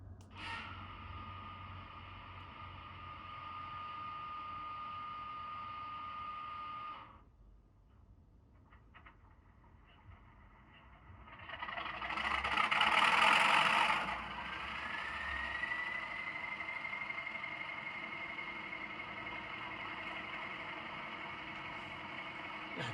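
An Accurascale Class 31 model locomotive with DCC sound starts up: a steady mechanical hum drops away, then a loud burst of start-up noise rises and settles into an idling engine drone with a rising whine.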